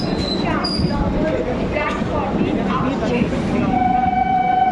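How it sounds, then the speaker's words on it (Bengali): A train pulls into a platform at Dum Dum station, a steady loud rumble of wheels with thin metallic squeals and a high tone near the end, while people talk nearby. "আমাদের ট্রেন এসে পড়েছে"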